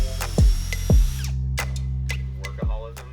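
Power drill boring holes straight down into a wooden block for a homemade doweling jig, with several short bursts of motor whine spinning up and down over a steady low hum, close and fairly loud.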